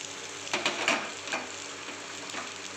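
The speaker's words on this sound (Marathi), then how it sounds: "तूप आपलं चांगलं तापलं आहे, आपण असं जिरं टाकून घेऊया." Cumin seeds frying in hot ghee over medium heat make a faint, steady crackling sizzle with a few slightly louder bursts.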